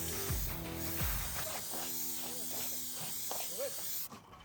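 A steady hiss of asphalt primer being sprayed on a flat roof runs for about four seconds with faint mechanical clicks, then cuts off abruptly.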